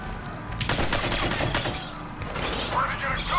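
Gunfire in Mass Effect 3, a rapid burst of sharp shots and impacts followed by scattered cracks, loud and close, with voices mixed in.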